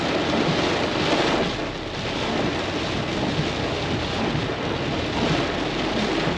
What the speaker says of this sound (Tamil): மழை சும்மா பொழந்து கட்டுறான்.